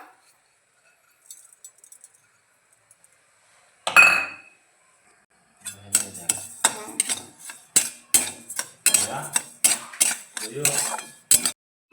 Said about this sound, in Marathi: कढईमध्ये आपण हे टाकलेलं आहे थोडंसं भाजून घ्यायचं आहे याला